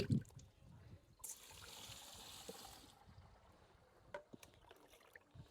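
Liquid from rotting kitchen waste compost drains and trickles quietly through the pile, with a soft hiss of running liquid in the middle and a few small knocks and taps around it.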